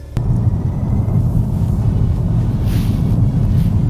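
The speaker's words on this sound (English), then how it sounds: "It sounds good when it's driving, it just purrs along while it's idling." A 2019 Audi A6 Avant 3.0 bi-turbo engine idles with a steady, low rumble, smooth and even throughout, with a faint hiss of wind above it.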